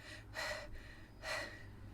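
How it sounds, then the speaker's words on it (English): Two slow, deep breaths in and out without pausing, each a soft airy rush close to the listener, heard alone against a quiet background in a circular breathing exercise. "So this is when you take deep or gentle breaths in and out without pausing."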